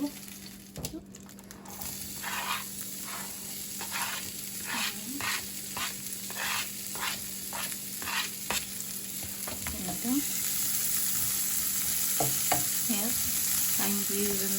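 Seasoned meatballs brown in a pan of reused oil, giving a steady close sizzle with a run of regular stirring or scraping scrapes and a few light knocks, and no voices.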